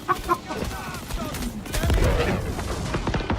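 A grenade explodes and gunfire crackles in a Star Citizen firefight, with scattered bursts of shots and a heavier boom near the middle, under a player's voice.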